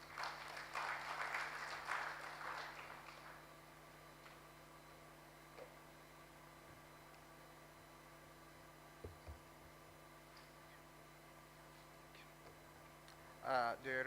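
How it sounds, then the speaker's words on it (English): Brief applause from an audience at a formal Nigerian government launch event greets a Permanent Secretary, moderately loud for about three seconds before fading into room hum and near silence, with a short burst of noise at the end. "Please, an applause for him."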